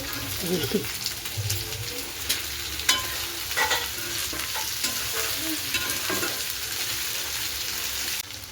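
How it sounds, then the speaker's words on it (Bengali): Potatoes sizzle and fry in a pan with occasional stirring scrapes and clicks, a steady crackle throughout. "আমি এবার আলুটা কষিয়ে নিচ্ছি"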